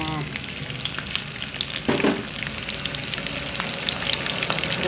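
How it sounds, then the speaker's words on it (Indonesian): Shallot and garlic spice paste stir-fries in hot oil for sambal goreng kentang krecek, giving a steady close crackling sizzle with a brief burst of stirring near the middle. "Nah, kita mulai gongso dulu. Iku minyak wis panas yo. Mak meh masukke bumbune."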